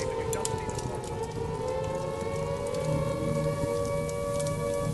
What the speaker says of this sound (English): Air raid warnings.